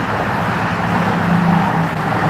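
Steady, loud road traffic with cars streaming past close by, a continuous dense roar with no break and no voices.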